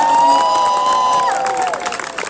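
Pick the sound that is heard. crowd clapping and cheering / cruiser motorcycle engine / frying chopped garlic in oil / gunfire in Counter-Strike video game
crowd clapping and cheering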